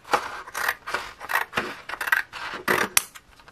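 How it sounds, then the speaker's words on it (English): Scissors snipping along the edge of teal card stock, a run of crisp, close cuts in quick uneven rhythm, each a short bright slice of blade on paper. "And then I'm just going to trim up this edge too"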